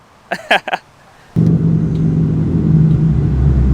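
A 2019 Ford Mustang GT with a ghost cam tune rumbles low and loud as it pulls off, a deep steady engine drone starting abruptly after a few brief vocal sounds.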